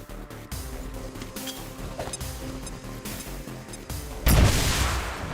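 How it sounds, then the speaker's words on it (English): A plasma grenade explodes in the game XCOM 2 as a sudden booming burst that rises over a low, busy game soundscape and slowly decays. "let's throw a plasma grenade to kill this dude"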